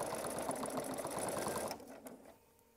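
A sewing machine runs fast, stitching fabric for a blanket with sleeves, its rapid even needle chatter loud and close before it stops abruptly, leaving quiet room tone.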